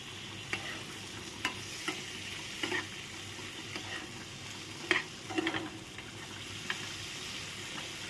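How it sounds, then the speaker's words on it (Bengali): Prawns fry gently in butter with garlic and cumin in a pan over a low flame, giving a soft steady sizzle broken by a few light clicks of stirring, with no talking. "তোমার চিংড়ি মাছটাও কিন্তু হালকা হাতে আমি ভেজে নিচ্ছি, যাতে শক্ত না হয়ে যায়।"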